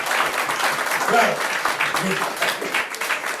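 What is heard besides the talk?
congregation applauding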